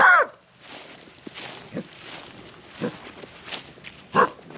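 A trapped coyote pup caught in a Duke 550 trap growls in short, rough bursts spaced a second or so apart, close and fairly loud, with a sharp noise at the start.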